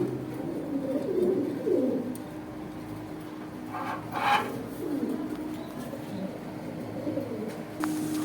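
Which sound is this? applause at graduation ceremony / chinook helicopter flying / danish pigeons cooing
danish pigeons cooing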